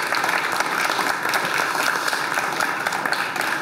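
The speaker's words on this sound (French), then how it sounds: "Je vous demande d'applaudir Laetitia Lemanner, s'il vous plaît." Audience applause fills a studio during a taping of a regional economics programme, a dense steady clatter of many hands clapping for the whole stretch with no voices over it.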